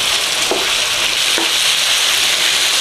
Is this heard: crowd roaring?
no